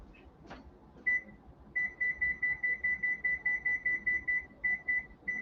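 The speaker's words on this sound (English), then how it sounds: "Let me set a timer for 20 minutes to check these so I don't forget." A kitchen timer being set for cooking, one short beep followed by a fast, even run of about fifteen high electronic beeps, clear and fairly close, with no talk.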